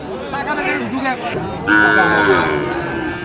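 Cow at a busy cattle market in Dinajpur, a drawn-out moo rising clearly near the midpoint while people chatter nearby throughout.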